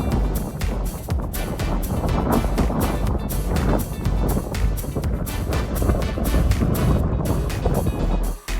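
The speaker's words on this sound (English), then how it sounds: "I will let you hear how strong the wind is just for a bit." Strong cold wind at the Cliffs of Moher in Ireland buffets the microphone in loud, rumbling gusts with irregular bursts throughout.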